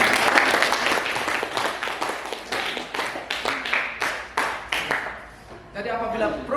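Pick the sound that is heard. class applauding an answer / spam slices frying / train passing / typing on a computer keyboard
class applauding an answer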